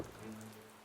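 Rain falls steadily, making a dense, even patter that stays close and fairly loud through a very short stretch, with no voices.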